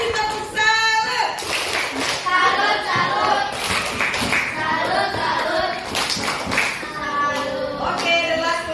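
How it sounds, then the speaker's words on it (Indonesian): A classroom group claps after a group presentation at a teachers' coaching supervision session, steady dense clapping throughout with children's and adults' voices talking and calling out over it. "Kasih tepuk salut."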